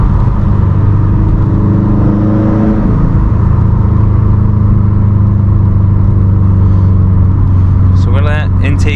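500hp E85 Subaru WRX STI engine, a loud steady low rumble with a brief rising rev early on that settles back to idle, while a voice talks over it near the end.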